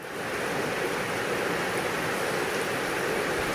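Heavy monsoon rain in Laos pours down steadily, a dense, even hiss of broadband noise that fills the whole clip without pause, close and loud with no voices.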